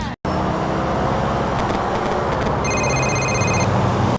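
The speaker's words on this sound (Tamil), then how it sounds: "GTA 4 நீங்க கார் டிரைவ் பண்ணும்போது உங்களுக்கு யாராவது கால் பண்ணாங்கன்னா கால் வரதுக்கு முன்னாடி இன்டர்ஃபரன்ஸ் சவுண்ட் வரும்." In GTA 4, a mobile phone's crackling interference buzz comes before an incoming call while driving. A car engine and road noise drone underneath, with rapid buzzing pulses and then a steady electronic tone.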